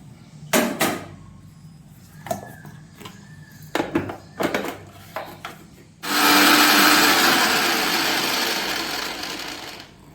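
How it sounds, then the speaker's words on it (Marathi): A few wooden knocks and scrapes come first, then a kitchen mixer grinder roars to life, grinding cooled roasted spices for chicken angara. The loud, close, continuous whirr runs steadily to the end. "मसाले हे थंड झाले आहेत आता आपण हे सर्व मिक्सरच्या भांड्यामध्ये टाकून बारीक करून"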